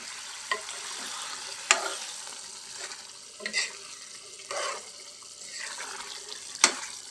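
A tomato curry with eggs, drumsticks and dried fish bubbling and simmering in a pot, with soft sizzling and occasional sharp clinks of a utensil against the vessel.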